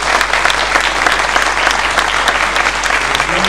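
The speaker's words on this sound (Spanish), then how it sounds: "Así que bueno, aplausos." Loud, dense applause from a crowd, steady clapping throughout with no pauses.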